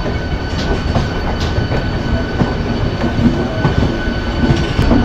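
A local train rolls past near Howrah, giving a loud, continuous rumble with faint clatter of wheels over rail joints and no talk.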